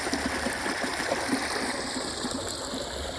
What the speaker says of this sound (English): the water's still flowing, and Skip's been running all over.